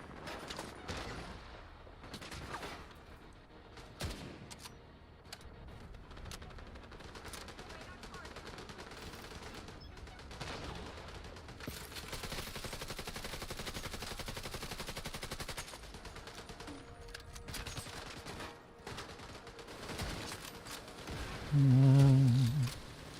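Submachine gun fire in a video game, long stretches of rapid automatic bursts rattling almost nonstop, broken by brief gaps, with one louder burst near the end.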